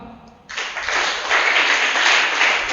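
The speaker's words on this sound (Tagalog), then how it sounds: "Palakpak." A church congregation breaks into applause after a brief quiet moment, the clapping rising quickly and holding as a full, steady patter of many hands.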